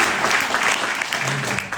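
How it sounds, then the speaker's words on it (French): An audience at a conference gathering gives a short burst of applause for the translators, with thick, rapid clapping from many hands filling the room at a loud, steady level. "Je voulais les applaudir"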